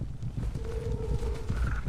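Horses in a MU Online castle siege, with a thin whinny-like tone and soft hoof clatter over a constant rumbling battle din.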